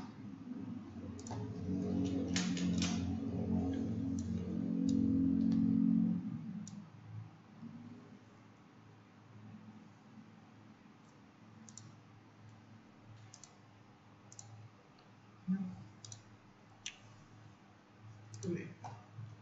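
A computer mouse clicking during an online class, several sharp faint clicks scattered through the clip, first under a man's speech and then mostly alone with quiet background.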